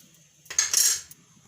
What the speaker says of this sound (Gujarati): આપણે ગેસ ચાલુ કરી આપણે આ કડાઈ માંડી દઈશું